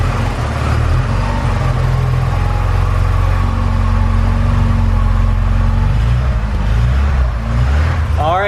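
A Porsche 944 engine runs steadily at a loud, close idle with a low rumbling drone, holding an even tone for several seconds before a brief shift near the end.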